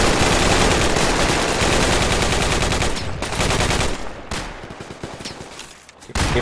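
Sustained automatic machine gun fire in the tactical shooter Project Reality, a dense, loud unbroken rattle of rapid shots that thins into scattered bursts and sharper cracks toward the end.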